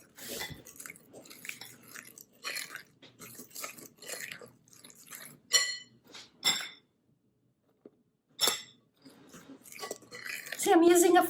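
A fork whisks banana fritter batter in a bowl, with scattered clinks and scraping strokes in bursts, loud and close, between short pauses, while someone talks over much of it.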